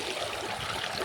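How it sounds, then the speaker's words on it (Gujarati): Cold water gushes steadily from a farm well's motor pump, a continuous close rushing wash with no voices over it. "તો જો આટલું કંઈક પાણી કાઢે છે અને પાણી એકદમ ઠંડુ છે."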